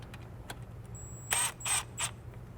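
A 6mm hex tool snugs down clutch bolts on a BMW 328i with an N52 engine. Three short, close bursts of ratcheting clicks follow a few faint taps in an otherwise quiet space.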